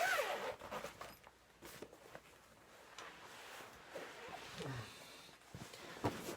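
A zipper on a soft rifle case holding a Savage 30-06 deer rifle with a Nikon scope is drawn open in several rasping pulls, close and fairly quiet, mixed with handling rustles.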